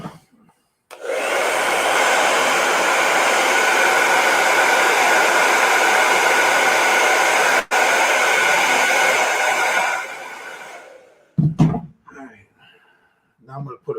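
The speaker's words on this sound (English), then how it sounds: "I'm going to hit this with a blow dryer" A blow dryer blasts hot air over freshly painted red and white areas, a loud steady roar running about nine seconds with a brief cut, then switching off into quiet handling sounds.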